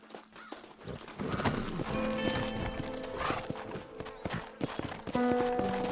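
Horses in the Red Dead Redemption video game gallop with rhythmic hoofbeats under a musical score. A brief whinny sounds near the start, and game noise layers over the hoofbeats.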